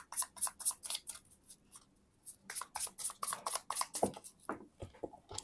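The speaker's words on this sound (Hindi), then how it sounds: "मैं आपके कार्ड्स को शफल कर लेती हूँ" Tarot cards being shuffled in a collective reading, with quick bursts of riffling, sliding card noise in rapid clusters, a brief pause in the middle, then more shuffling and a few soft taps, close and alone.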